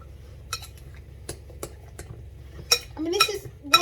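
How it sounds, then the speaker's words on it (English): A spoon stirring an egg and cottage cheese mix in a bowl gives a few scattered clinks and taps, then a quicker cluster of metallic scrapes and knocks toward the end, close and fairly quiet. "Right, so give that a stir."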